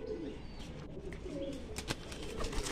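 Pigeons cooing in a loft, low murmuring coos repeating close by over a busy background, with a few brief sharp clicks near the end.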